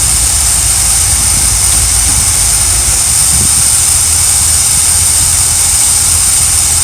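An RV engine running in gear with a loose belt, a steady loud low rumble with a constant high whine on top, lugging roughly as though close to stalling, with no talk.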